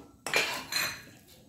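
Sugar and coconut mixture for sugar naru being pressed and stirred in a pan, with a couple of close scraping, clinking strokes of a utensil against the pan, then quieter rubbing.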